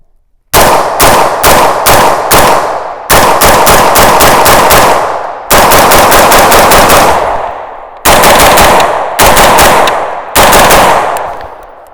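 A gun fires Monarch ammunition in loud, close, rapid bursts of shots, several strings of quick reports separated by short pauses, each shot ringing out sharply over open-air echo.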